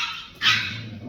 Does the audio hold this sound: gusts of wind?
no